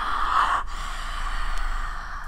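A woman breathes heavily near the microphone, with a long, audible exhale followed by quieter, slow breaths.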